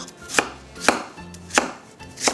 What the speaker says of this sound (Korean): 반으로 가르고 안에만 파내서 믹서기에 갈 수 있도록 가볍게 썰어주세요